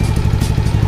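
A motorcycle engine running down after a GPS alarm cut it off, still sputtering on leftover fuel: a steady close low idle rumble with rapid even pulses, loud and alone.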